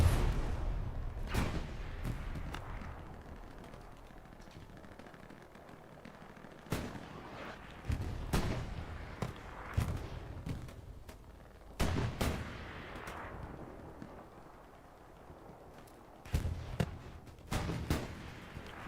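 Heavy explosions and gunfire from a Hell Let Loose match erupt in repeated loud bursts with quieter gaps of distant battle noise, one blast standing out as a satchel charge detonating nearby.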